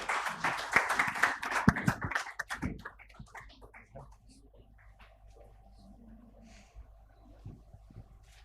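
At an awards ceremony, an audience gives a short burst of clapping that is loud at first and then thins out over a few seconds into scattered claps and quiet room noise.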